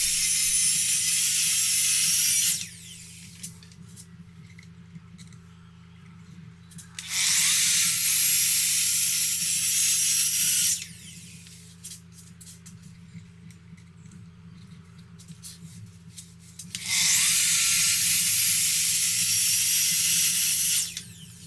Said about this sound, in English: I'm going to run the saw 3 to 4 more times on this and get this outer edge all the way cut off